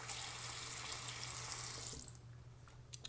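Running tap water pours steadily over a whetstone being rinsed for straight razor honing, a bright continuous hiss that stops abruptly partway through, leaving a few faint drips and clinks.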